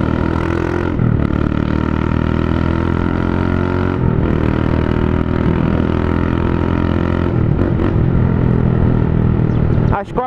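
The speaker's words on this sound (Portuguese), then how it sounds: "Ele nunca viu minha moto com cano barulhento." A motorcycle with a loud, modified exhaust rides along on a street near a school, its engine droning steadily and close for the whole stretch with small surges in revs.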